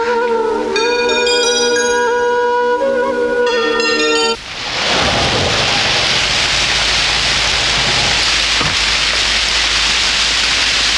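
Steady heavy rain pours at night in a film scene, a dense wash of noise that takes over abruptly after a few seconds of sustained musical tones and continues loudly to the end.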